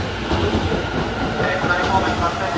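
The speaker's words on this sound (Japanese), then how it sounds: "特急列車発車した後2番線停車中の勝田行き続けて発車をいたします" A delayed Joban Line limited express bound for Katsuta departs from a station platform, rolling past with a loud, steady rumble and clattering wheels that stay close and continuous throughout.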